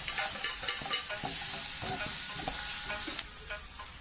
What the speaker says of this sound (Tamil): இப்போ நம்ம எண்ணெயில் ஃப்ரை பண்ண அந்த இட்லியை போட்டுக்கலாம்.